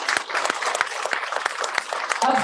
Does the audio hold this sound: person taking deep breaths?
no